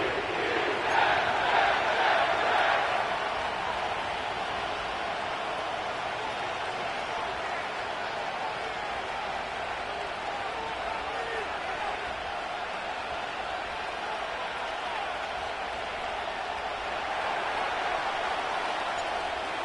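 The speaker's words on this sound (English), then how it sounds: "The crowd is definitely ready" A stadium crowd roars continuously at MetLife Stadium in the Madden 25 football game, louder at the start and swelling again near the end, with commentary voices over it.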